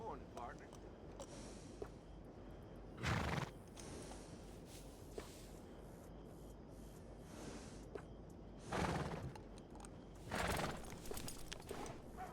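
Horses in the video game Red Dead Redemption 2 clip-clop and snort in a few short bursts over steady ambient game sound, with talk running underneath.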